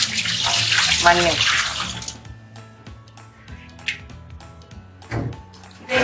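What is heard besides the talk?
dirty wash water poured out of an earthen pot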